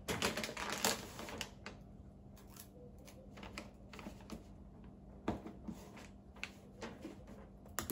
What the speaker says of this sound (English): we're gonna also use this small sellotape to stick the sides